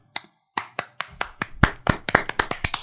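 A small group of people starts clapping with a few scattered claps that quickly build into quicker, overlapping applause, close and crisp with no voices.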